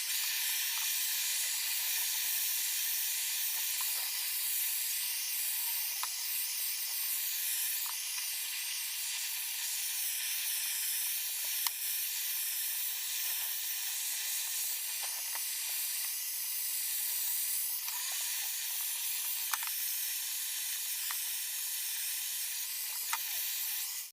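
A gas torch scorching a wooden scaffolding board, a steady close roaring hiss that runs unbroken throughout with only small flickers in intensity.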